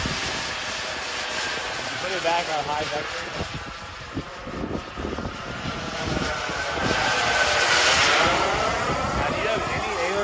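A fast remote-controlled model jet airplane roars loudly and steadily with rising intensity, the sound swelling and shifting pitch as it passes, with excited voices talking over it.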